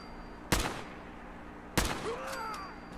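Two sharp, loud shots from a scoped assault rifle in Fallout 4, spaced over a second apart, each with a short ringing tail, over a low steady ambient hum.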